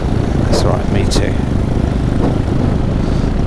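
Paramotor engine droning steadily in flight at a fly-in, a continuous buzzing hum close by with people talking over it.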